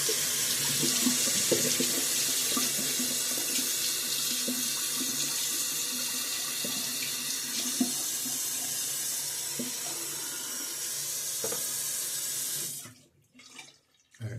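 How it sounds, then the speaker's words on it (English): Water runs steadily from a tap into a sink while a shaving brush is rinsed, a continuous loud gush that stops abruptly near the end. "So I'm just going to rinse out my brush."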